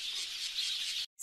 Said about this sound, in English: You may hear sounds coming from outside the classroom, like the chirping of birds.